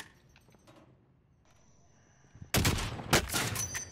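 Quiet ambience gives way to a sudden loud stretch of close gunfire in a multiplayer shooter, dense repeated cracks carrying on to the end.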